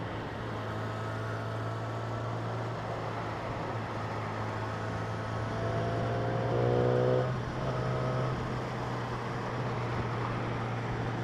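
A 2016 Yamaha R6 sport motorcycle engine holds a steady idle hum, swelling briefly as the revs rise and fall, heard alone without talk.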